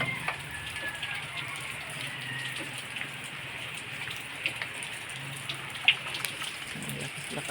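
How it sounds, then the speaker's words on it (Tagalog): Steady rain hisses and patters, with occasional louder drops striking a surface, fairly soft and continuous. "tatlong araw na ang ulan dito sa amin"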